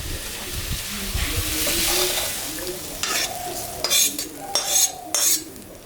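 A spoon scrapes and stirs chicken curry through thick vegetable khichuri in a metal pot over a soft sizzle, with a few sharp clinks near the end.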